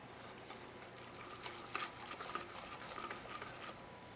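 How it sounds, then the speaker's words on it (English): A whisk stirring a butter roux in a pan for lasagna Bolognese, a quiet continuous scraping swish with soft bubbling and small irregular clicks against the pan. "push your whisk around in a circle, and it'll get those corners"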